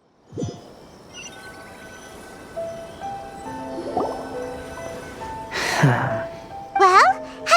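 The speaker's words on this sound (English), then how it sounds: "after I sprinkled some water onto the paper" Water sprinkled onto paper in Genshin Impact: a soft plop, then a brief splashy spatter and a few light drips, set among quiet sustained game tones.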